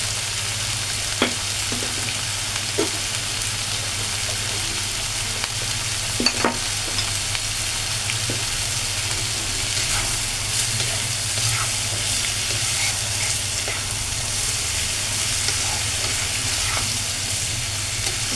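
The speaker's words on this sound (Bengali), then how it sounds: "এটা 2 মিনিটের মতন একটু নাড়াচাড়া করে নিচ্ছি আমি।" Kachki fish and vegetables with turmeric and salt fry loudly in a pan, a steady close sizzle broken by scraping stirring strokes and occasional clinks throughout, with no one speaking.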